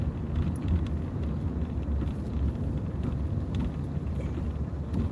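A car on a morning commute drive at sunrise in Arizona rumbles steadily from inside the cabin, a constant low road and engine drone with faint wind noise and no talking.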